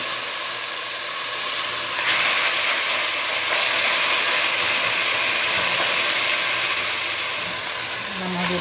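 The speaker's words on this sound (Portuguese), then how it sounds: "Mas vamos dar uma pequena selada" Beef (maminha cut) and onion searing in hot oil in a pressure-cooker pot make a steady, close, broadband sizzle and hiss that runs throughout, with occasional stirring clatter.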